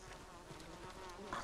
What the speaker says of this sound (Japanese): あ、蜂。